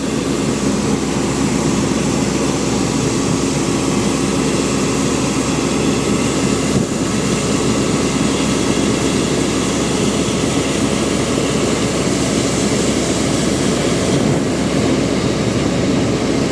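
A loud, steady engine roar from a combine harvester harvesting sunflowers drones continuously, with wind buffeting and no pauses.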